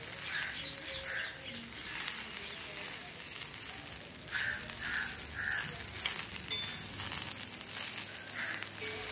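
Cut broad beans (avarakkai) sautéing in oil in a pan for poriyal, giving a soft, steady sizzle with faint crackles, close and quiet, no talk.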